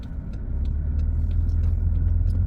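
Car interior while driving from Cobequid Road onto Glendale Drive in Lower Sackville, Nova Scotia: a steady, close low engine and road rumble with faint ticking of the turn signal above it, no talking.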